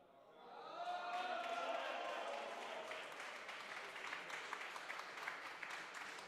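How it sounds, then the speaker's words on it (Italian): Applause at a Serie A raffa bocce match, a burst of clapping from an indoor crowd that swells quickly, holds steady and then tapers, with sharp individual claps audible and faint voices underneath. "Tanto applausi per Giacomo Lorenzini"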